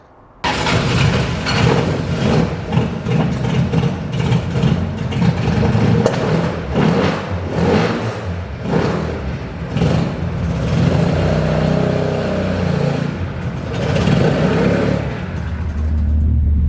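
A Datsun 510 car engine revs and accelerates continuously while driving, a loud, steady rumble with rising and falling surges throughout.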